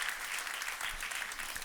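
Church congregation applauding, steady sustained clapping from many hands at moderate distance, with no pause through the short span.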